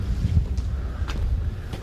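Wind gusts roar low and steady through a narrow village alley lined with bamboo in Irun-myeon, Geoje, a rumbling blustery rush close to the microphone with no voices.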